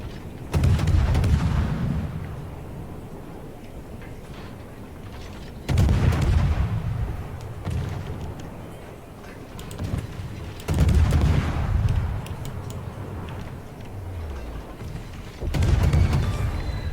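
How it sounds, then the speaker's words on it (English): Ship guns opening fire in the naval battle game World of Warships. Four heavy booming salvos arrive about five seconds apart, and each rumbling blast decays slowly with no talk over it. "And I'm going to start opening fire on the Mitsuki."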